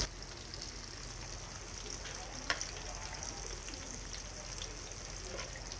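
Cooking oil heats in a frying pan previously used for frying tofu, giving a steady, faint sizzle and crackle with occasional small pops, continuous throughout with no talking.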